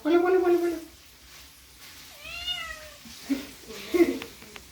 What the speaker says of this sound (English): Well, there's our cat.